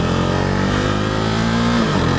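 A KTM RC390 engine revving hard while riding on a gravelly road, a loud, close, continuous buzzing drone that rises in pitch through a quick shift.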